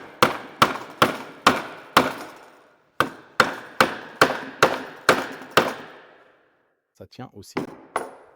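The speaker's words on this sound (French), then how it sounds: "si maintenant on prend un marteau et qu'on essaye de voir si ça tient" A hammer repeatedly strikes a stud welded onto sheet metal to test the weld, about a dozen sharp ringing metallic blows in a steady rhythm, then a pause and a cluster of lighter knocks as a voice speaks briefly.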